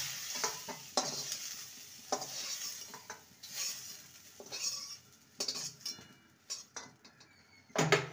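Brinjal fries in oil in a wok while a metal spatula stirs it, giving sharp scrapes and clinks at irregular intervals over a quiet background sizzle, with no talk.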